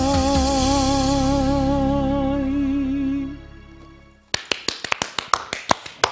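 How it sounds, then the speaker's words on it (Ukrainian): A sustained sung note with vibrato fades out, and then an audience at a televised birthday celebration breaks into sharp, evenly spaced claps in a steady rhythm that carries through to the end. "ваші оплески, наші бурхливі оплески"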